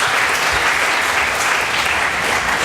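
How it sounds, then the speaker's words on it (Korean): A church congregation at a Sunday afternoon Reformation Day service applauds a visiting pastor, with loud, dense clapping from many hands that stays steady and unbroken throughout. "박수 한번 쳐주시죠"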